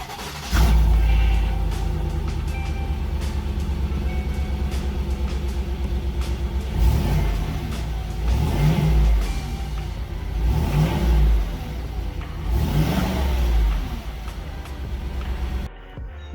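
A 2020 GMC Sierra with the stock exhaust starting cold, its engine catching with a loud low rumble that idles steadily, then rises in several revs and settles, with no talking.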